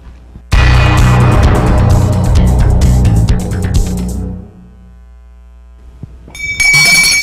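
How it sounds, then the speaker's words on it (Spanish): Bell-ringing sound effect in a Colombian local news broadcast from Tuluá: a loud, dense, clanging ring that lasts about four seconds, decays into quiet, then gives way to a brighter tonal sound at the end. "Suena, suena la campana."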